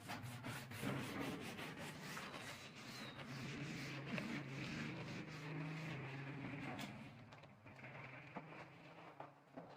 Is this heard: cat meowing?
no